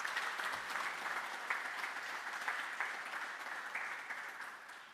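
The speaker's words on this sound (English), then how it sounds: "Can I just have another round of applause for this milestone?" A room of attendees at a project agreement signing ceremony gives a sustained round of applause, even and continuous clapping at a moderate, somewhat distant level, tapering slightly at the end.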